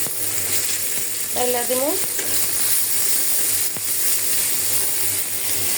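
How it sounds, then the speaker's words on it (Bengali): Potatoes and tomatoes frying in oil in a wok, a steady close sizzle with stirring scrapes, and a brief spoken phrase partway through. "এখন আমি এই কড়াইতে আলু আর টমেটো কষাইয়া পাতিলে"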